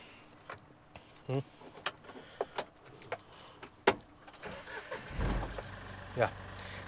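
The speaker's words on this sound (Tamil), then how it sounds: "என்ஜினை ஸ்டார்ட் பண்ணியே பார்த்துருவோமே." The 1.5-litre three-cylinder turbo diesel engine of a Mahindra Veero cranks and starts with a low rumbling burst, after a few clicks and thumps inside the cab, while someone talks nearby.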